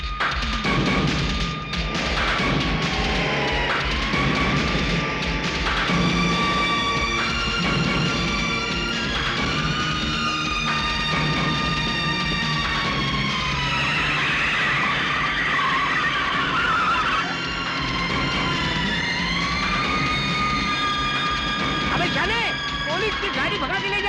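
Tires skid and an engine roars as a car tears away during a chase scene in a Mithun action film, the screeching and motor noise running loud and continuous under music and shouting voices.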